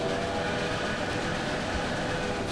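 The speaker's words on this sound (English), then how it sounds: "Let's go focus on the train. Should we ride it? Let's ride the train." A train running in the Railway Empire video game, a steady, loud, continuous rumble and hum of rolling wagons with no breaks, heard alone without talk.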